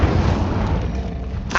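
Incendio fire spell cast in Hogwarts Legacy: a loud, sustained roaring whoosh of flame that runs unbroken, then gives a brief burst at the end.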